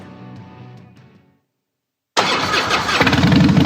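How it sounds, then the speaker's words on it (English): A motorcycle engine fires up abruptly after a brief silence and settles into a loud, rumbling idle, close by. "This is the sound of a popular American motorcycle."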